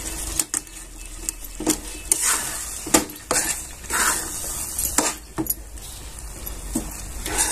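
A spoon stirs a papaya mixture with finely ground peanuts in a pan over low heat, giving repeated scraping and knocking strokes against the pan with soft sizzling beneath, close and fairly loud, with no voices.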